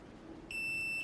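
A Eufy smart lock gives a steady high electronic beep during its factory reset, a single sustained tone beginning halfway through, close and clear against quiet room hum.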